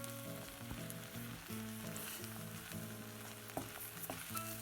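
Flour, about 50 grams, being stirred into Lancashire hotpot meat in a pan makes a constant low sizzle, with music playing over it.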